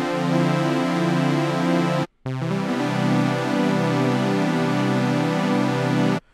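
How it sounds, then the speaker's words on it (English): A buzzy synth tone from two detuned saw-wave oscillators, with a slow wavering, beating shimmer, holds one note, breaks off briefly, then sounds again with the same pulsing detuned character. "So one of my favorite things to do is detune the oscillators."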